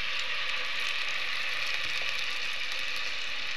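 Carrot paste sizzling in melted ghee in a pan, a steady, close, even hiss with no pauses and no voices.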